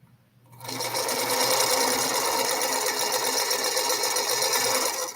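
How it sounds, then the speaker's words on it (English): A sewing machine runs steadily, stitching a quilting seam in fabric with a continuous close mechanical whir that starts after a brief quiet moment and holds level throughout. "Let me sew this right here."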